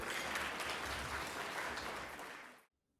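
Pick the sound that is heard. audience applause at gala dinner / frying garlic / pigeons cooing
audience applause at gala dinner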